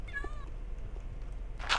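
A Minecraft cat meows a few times, short rising-and-falling cries near the start, against a quiet game background, followed later by a brief bright noise.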